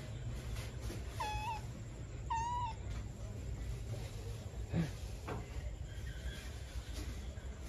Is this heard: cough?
no